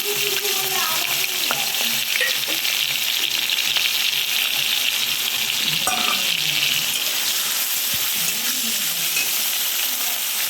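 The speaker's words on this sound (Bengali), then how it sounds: "পরিমাণ মতো সাদা তেল দিয়ে দিলাম, আর একটু বিনসটা ভেজে নিব।" Vegetables and beans frying in white oil in a home kitchen, a steady loud sizzle running throughout with occasional stirring scrapes and clinks of a utensil in the pan.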